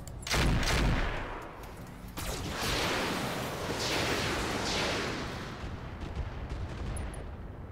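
Gunshots in the video game Roguepoint aimed for a headshot, a loud burst of cracks at the start and then heavy, rumbling fire that keeps rolling for several seconds under a steady din.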